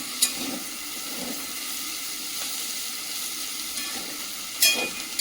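Bitter gourd fries in hot oil with a little fish oil, a continuous close sizzle with a couple of sharp clinks from the utensil, and no one speaking.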